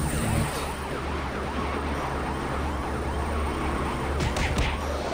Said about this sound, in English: Good, I got the sirens right away.